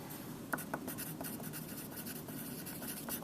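Pen or pencil writing on a math worksheet, with steady scratchy strokes running continuously for a few seconds, close and fairly quiet.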